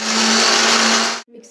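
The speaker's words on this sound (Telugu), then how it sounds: "ఇవి కలిపి మిక్సీ పట్టాలి." A mixer grinder whirs loudly and steadily as it grinds green chillies, salt, garlic and cumin, with a strong motor hum, then cuts off abruptly near the end, followed by a faint clatter.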